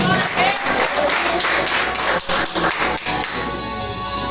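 A church congregation at an Assembly of God vigil applauds, a loud, dense wash of clapping with irregular thuds and taps mixed in, continuing steadily before easing slightly at the end.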